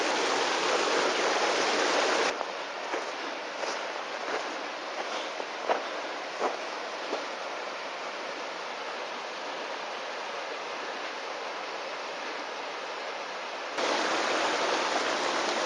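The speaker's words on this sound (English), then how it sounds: "I like the bubbling brook." A brook along the Bear Creek Canyon trail in Colorado Springs rushes in a steady broadband wash, close and constant, with small splashes and gurgles poking through the flow.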